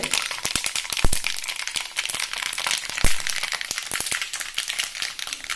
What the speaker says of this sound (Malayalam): കടുക് നമുക്ക് അതിലിട്ട് പൊട്ടിക്കാം